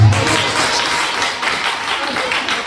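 A church congregation applauds, a dense wash of many hands clapping at close range that holds steady for the whole stretch before easing slightly toward the end.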